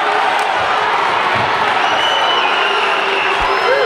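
Agitated crowd at a men's college basketball game between HU and Indiana Wesleyan inside Platt Arena, a dense, steady roar of voices and jeers filling the gym without a break.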